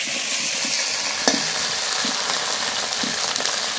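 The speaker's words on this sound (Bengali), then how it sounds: "ঢেঁড়সগুলো আমি বেশি কিন্তু ভাজবো না, হালকা হালকা করে ভেজে নেবো" Okra fries lightly in a pan, a steady close sizzle with a few soft knocks of stirring, and no talking.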